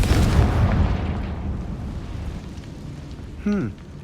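A Confringo spell explodes against a barricade in Hogwarts Legacy, opening with a loud, close blast that trails off into a fading rumble. A short vocal sound follows near the end.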